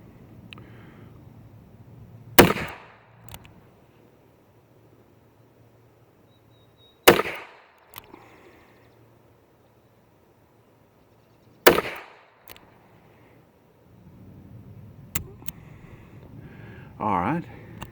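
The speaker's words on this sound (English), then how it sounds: "All right, that was 5 rounds of 38 special." A High Standard Sentinel MK3 revolver fires .38 Special rounds, sharp loud reports spaced several seconds apart with brief echoes, over a quiet background and a faint hum, with speech near the end.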